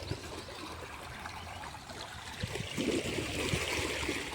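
Water from solar-powered pump motors pours into farm irrigation channels for cotton sowing, making a steady, close trickling and gurgling rush that grows slightly fuller partway through.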